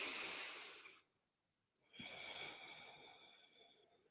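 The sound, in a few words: a full breath during yoga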